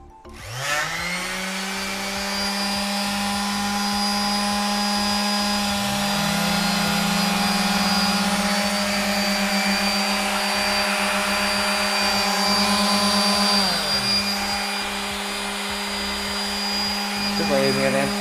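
A 100V 180W power tool rated at 13,000 rpm runs steadily for most of the span, a loud smooth high whine that spins up, dips briefly and spins back, with no voices over it.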